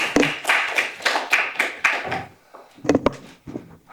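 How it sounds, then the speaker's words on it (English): A lecture-series audience claps for about two seconds with distinct, sparse hand claps, then the clapping stops and a few scattered claps and thuds follow. "let's welcome them with a round of applause"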